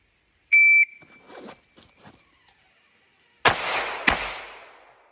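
A sharp electronic beep from a shot timer comes first, then after a pause two sharp pistol shots from a Canik MC9 crack in quick succession, each leaving a decaying outdoor echo.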